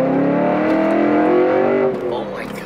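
A BMW 1 Series carrying a swapped-in e92 M3 engine accelerates hard from up close, its loud rising engine note climbing steadily before it eases off near the end, with voices talking in the background.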